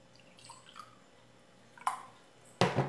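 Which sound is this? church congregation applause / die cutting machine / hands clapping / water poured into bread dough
water poured into bread dough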